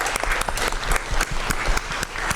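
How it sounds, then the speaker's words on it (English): Clapping from a school board meeting audience honoring a teacher, a brisk, fairly loud patter of many hands with distinct sharp claps standing out, continuing steadily without talk. "So let's give a round of applause for Ms. Vasquez from Safford."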